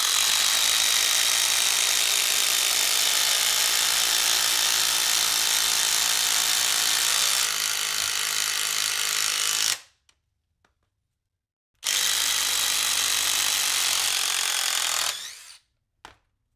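DeWalt cordless impact drivers, an Atomic and an XR, drive a 5-inch lag bolt into wood, giving a loud continuous whirring, hammering drive that stops for a two-second pause, then resumes briefly before cutting off.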